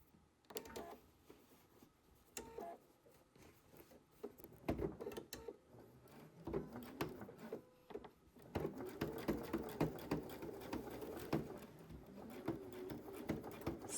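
A sewing machine stitches a seam on jeans, starting with a few short bursts before settling into a faster, continuous mechanical whirring and rattle that grows louder toward the end.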